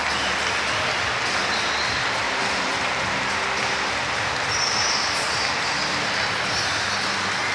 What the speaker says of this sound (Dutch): Het applaus is ovationeel voor deze man die vanavond zijn laatste wedstrijd speelt.